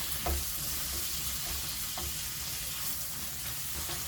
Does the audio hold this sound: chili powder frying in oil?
yes